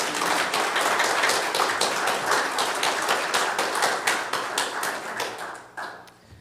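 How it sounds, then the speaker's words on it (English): Audience applause at a church service fills the room with dense, steady clapping that holds strong for several seconds, then thins out and fades at the end. "We have another round of applause for that."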